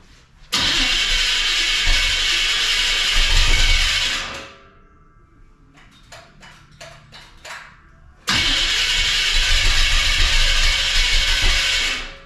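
A 1984 Chevy Silverado with a swapped-in Chevy 350 V8 cranks and fires into a loud, rough run that dies after a few seconds, followed by a lull with clicks before the engine roars back to life.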